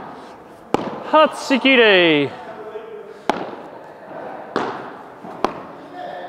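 Sharp, hollow pops as a padel ball is struck with a 2023 Royal Padel racket on drop shots, four or five crisp hits spaced a second or so apart; a voice exclaims with a rising cry between the first shots.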